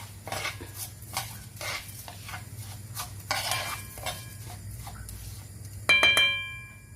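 Rice and garlic being stirred in a cooking pot for a rice and minced-meat gratin, with repeated scraping and clinking strokes close by, a steady low hum underneath and a brighter metallic clatter near the end.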